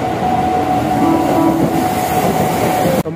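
Mumbai local train rumbles steadily from inside a sparsely filled coach, a loud, continuous low roar with a faint clatter of wheels and a thump just before the end.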